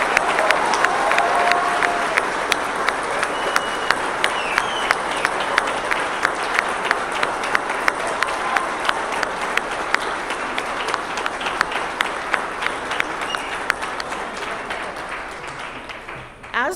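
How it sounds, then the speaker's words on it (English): Sustained audience applause fills a nursing pinning ceremony hall, many hands clapping densely and steadily for about seventeen seconds before tapering off near the end, with faint crowd murmur underneath. "So one more round of applause."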